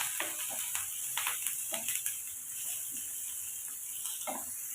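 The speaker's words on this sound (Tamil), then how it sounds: "வெங்காயம் ஒரு மிளகா கருவேப்பில் சேர்த்துக்கோங்க சேர்த்துட்டு ரசையை வதக்கி வச்சுக்கலாம்" Onion, green chili and curry leaves sauté in hot oil with a steady soft sizzle, broken by occasional light stirring taps and scrapes, quiet and close with no talking.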